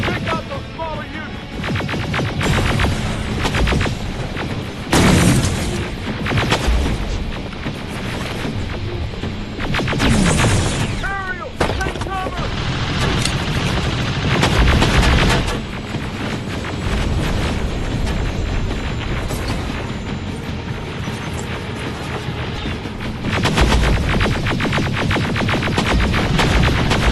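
Gunfire and explosions from combat in Terminator: Resistance, loud and dense with repeated bursts and booms and a rumbling bed throughout, with occasional shouted voices underneath.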